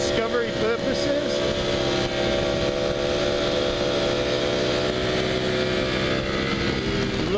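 Ducati Panigale V4 base model ridden on track laps, a steady loud engine roar holding high revs throughout with shifting pitch, close and continuous, with a voice talking over it.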